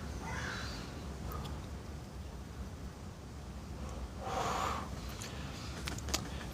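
Crows caw a few times outdoors, including one louder, nearer burst midway, over steady background noise and wind.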